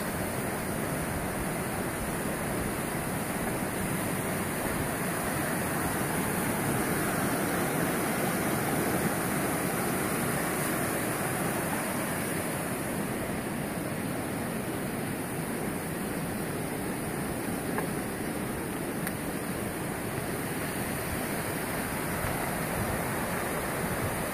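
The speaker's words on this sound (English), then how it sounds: "Come over here and float in the rapids, even a bigger beach." River rapids along the Appalachian Trail rush in a constant, even roar of flowing water that stays at the same level throughout, with no voices.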